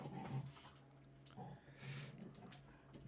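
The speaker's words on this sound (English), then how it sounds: "There is a dog growling behind me." Dogs growling while fighting over a toy, low rumbling growls in bursts with panting and whimpering, fairly faint and somewhat distant behind the listener.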